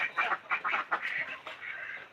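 Farm ducks quack in a rapid series of loud, nasal calls close by, several birds overlapping with no talk.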